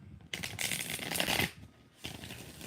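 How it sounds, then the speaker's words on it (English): Tarot cards shuffled face up by hand, a steady papery riffle and slide for over a second, a short pause, then a softer second round of shuffling close by. "I'm literally shuffling them with the cards face up."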